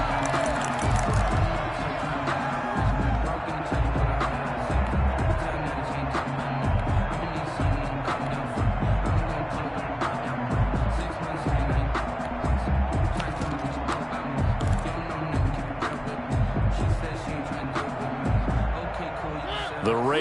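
Stadium crowd in a PS4 American football game, a constant roar and murmur of spectators running the whole length beneath continuous commentary talk.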